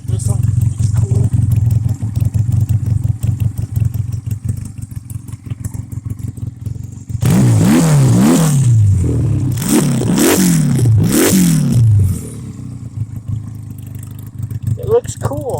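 A 2003 Honda Rebel 250 motorcycle idles steadily up close, then its engine is revved hard in a rapid run of rising and falling blips before it settles back to idle.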